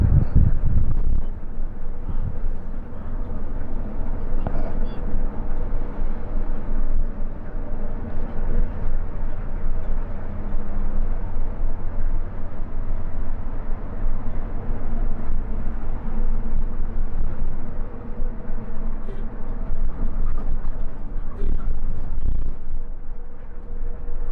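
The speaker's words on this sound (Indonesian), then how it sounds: "Di tol Bekasi Cikampek ini Pak supir melajukan bisnya cukup kencang ya" A bus speeds along the Bekasi-Cikampek toll road. A steady, loud low engine and road roar with rushing wind noise is heard from inside, continuous for the whole stretch.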